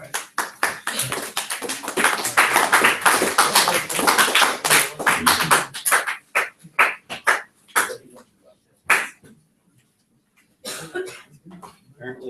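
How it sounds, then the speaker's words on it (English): Hands clapping among a small group at a class exam presentation, a dense run of quick claps for about six seconds that thins into scattered single claps and ends with a brief burst, with coughs and murmured voices mixed in. "Apparently, someone knows how to clap."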